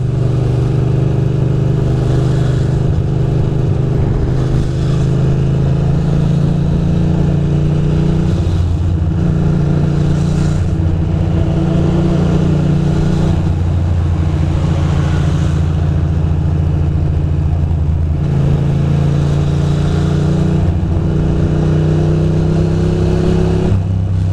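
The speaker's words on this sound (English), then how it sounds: "Look at all this traffic" Car engine drones steadily through commuter traffic, a loud, continuous low hum with slowly shifting pitch that never drops away, with no voices over it.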